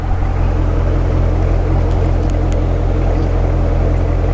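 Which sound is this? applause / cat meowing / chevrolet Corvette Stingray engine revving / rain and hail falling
chevrolet Corvette Stingray engine revving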